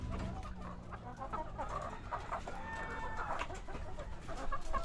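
Pet chickens cluck steadily at close range while being fed, with the murmur of nearby activity underneath and no clear talking.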